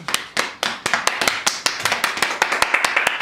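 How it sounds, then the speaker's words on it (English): A small group claps in an informal setting after an interview, with a few hands producing distinct, uneven slaps that settle into steady, close applause lasting a few seconds. "round of applause for the neighbors"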